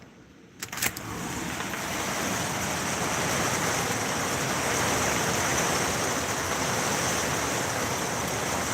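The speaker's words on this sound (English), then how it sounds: "Can you hear the rain? Have you ever heard the rain?" Rain heard through an opened door: a faint clack, then a steady, broad hiss of rainfall that swells up and holds evenly, fairly close and with no talking.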